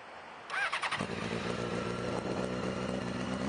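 A used 2007 Honda CBR600F4i middleweight sport motorcycle engine cranks and catches after a brief quiet moment, then settles into a steady, loud, close idle with no voices.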